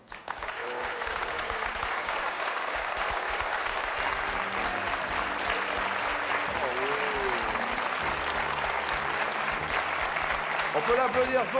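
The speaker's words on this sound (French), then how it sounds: "On peut l'applaudir fort, s'il vous plaît." A television studio audience applauds a magician after a paper-tearing trick, with sustained, dense clapping that swells after the opening and carries on under a host's voice.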